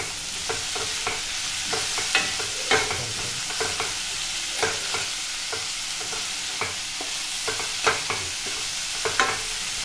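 Chopped spring onions frying for a curry, giving a steady sizzle under about a dozen sharp scrapes of a spatula stirring the pan at an irregular rhythm, close and fairly loud.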